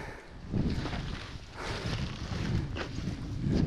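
Strong gusty wind buffets the microphone outdoors beside a Lotus Belle canvas tent pitched near a trailer, with a steady low roar that swells in waves and rustles throughout.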